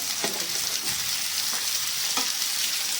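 Chopped capsicum and onion stir-frying in a hot pan, a continuous bright sizzle with a few soft scraping stirs, close and steady, no talking.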